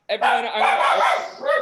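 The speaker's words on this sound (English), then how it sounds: "that's our dog Ringo" A pet dog indoors at home barks and whines loudly and close by during a book club call, in a continuous, drawn-out outburst lasting well over a second.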